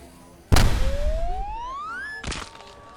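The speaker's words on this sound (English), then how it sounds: "Hey, don't stuff me in the cannon." A cannon in an animated western fires with a sudden loud boom, followed by a rising whistling whoosh as something flies off and a second thump near the end.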